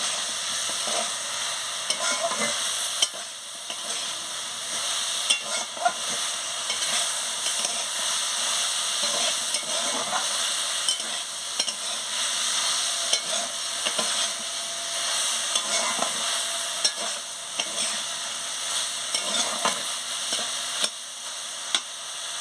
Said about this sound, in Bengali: জল দিয়ে পেস্ট করে দিয়ে দিচ্ছি দিয়ে মশলাগুলোকে ভালো করে কষিয়ে নিচ্ছি আনাজের সঙ্গে